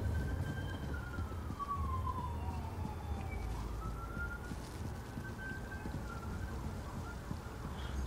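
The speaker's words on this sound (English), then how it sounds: "Sorry if you can hear that siren." A wailing emergency siren rises and falls slowly in the distance over steady rain-like background noise, faint and continuous throughout.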